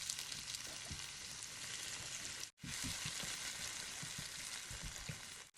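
Chopped, sliced tomatoes sautéing with chopped shallots and garlic in a pan, giving a steady close sizzle with scattered soft pops and a brief pause midway.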